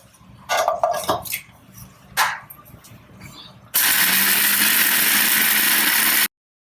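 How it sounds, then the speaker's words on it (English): Mixer grinder powdering spices and hing for tomato pickle: clinks and rattles of the jar being handled first, then a loud, steady, high whirring blast for about two and a half seconds that stops abruptly. "Grind everything together to a powder."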